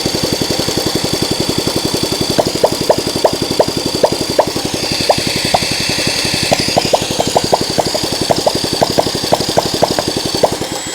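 A small engine with its carburetor freshly tightened runs close by, firing in a rapid, steady stream of pulses with slight unevenness and no voices.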